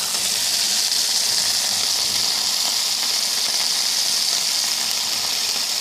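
Fish frying in oil in a covered tawa pan, a steady loud hiss and sizzle running without a break, close up, with no voices.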